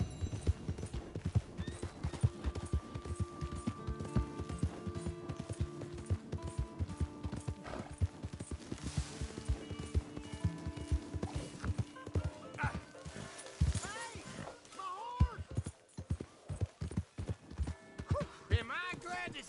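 A horse's hooves clip-clop across the ground in Red Dead Redemption 2, a rhythmic run of close hoofbeats with an occasional whinny, under in-game dialogue and talk.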